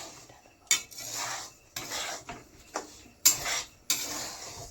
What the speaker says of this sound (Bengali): আমি কিন্তু ঘি তেল কিচ্ছু দিইনি, এমনিই কিন্তু শুধু সুজিটাকে নেড়ে একটু ভেজে নেব।